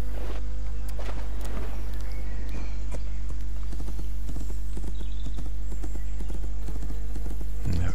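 Horse hooves clip-clop at a steady riding pace in the game My Little Riding Champion, close and distinct over a low background hum, with a short snort near the end.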